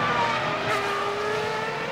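Formula 1 race cars in the F1 2002 video game scream past at full throttle, a steady high-pitched engine whine with overlapping cars and faint tire squeal, continuous and loud throughout.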